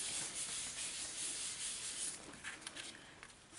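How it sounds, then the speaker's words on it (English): Steady close-up rubbing and scraping on a stamped paper craft card, a continuous dry friction sound that grows slightly uneven with small scuffs toward the end, with no talking. "So I'll just give that another bit of a rub."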